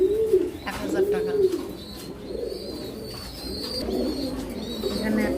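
Lakha fancy pigeons coo at a farm in repeated soft, rolling calls close by, with small chirps and faint background noise around them.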